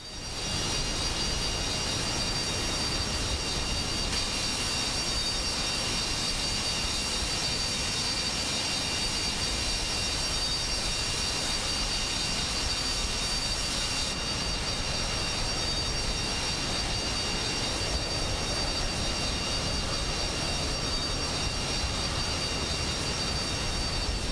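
Boeing 727 jet engines in Microsoft Flight Simulator 2024 run as a steady, loud, continuous roar with a high whine while taxiing, throttle being advanced, heard alone for the whole stretch.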